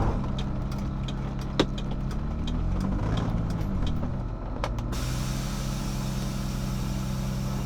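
BMW E30 engine running steadily and loud, with a low droning note that rises and falls as gears are shifted on a solid chassis mount shifter, sharp mechanical clicks and knocks over the first few seconds, no talking.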